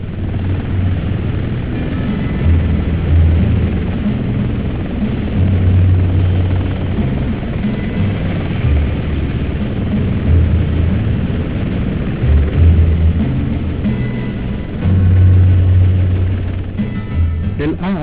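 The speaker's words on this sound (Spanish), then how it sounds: "Helicóptero artillado de más alta tecnología. Es rápido, ágil y poderoso." An Apache AH-64 attack helicopter's rotor thumps and engine roar steadily overhead, loud and continuous, with the beat swelling and fading as it passes.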